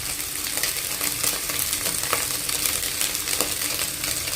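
Egg seasoned with salt and pepper fries hard in a pan for fried rice, giving a loud, dense, continuous sizzle with light metallic scrapes mixed in.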